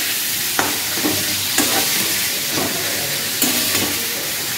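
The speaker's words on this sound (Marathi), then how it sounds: "जो आपण सुक्याला कांदा भाजलेला तो खूप असं छान पद्धतीने भाजून घ्यायचा, करपू पण द्यायचा नाही." Onion dry-roasting in a pan for a sukka mutton dish gives a steady hiss, broken by short scraping stirs roughly once a second, close and fairly loud with no voices.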